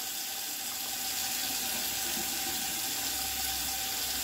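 Running tap water pours steadily into a sink while a brush is rinsed of oil paint brush cleaner, a constant close rushing hiss with no pauses.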